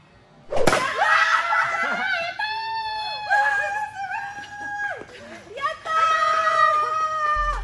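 A female martial artist's kick snaps a bat with one sharp, close crack, followed by excited voices, cheering and exclamations from the people around.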